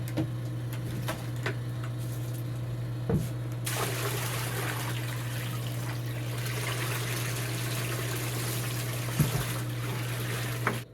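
Water pours steadily from a bucket into a gold-processing shaker table in a mine after a low mechanical hum with a few clicks, a continuous rushing splash that runs to the end.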